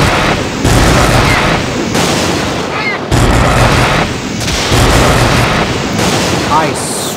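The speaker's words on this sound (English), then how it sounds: "I'm shooting you jerks out of the sky" Shooting at flying enemies such as vultures in the fantasy role-playing game Ultima IX: Ascension, with loud, booming shots repeating roughly every one to one and a half seconds over a constant rumbling backdrop.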